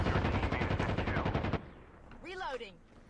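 Rapid bursts of gunfire from behind the player in COD Mobile, a dense rattling volley that cuts off abruptly, followed by a short whooshing sweep.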